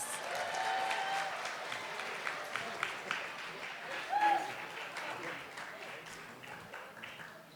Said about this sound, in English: Can we give Casey one more round of applause?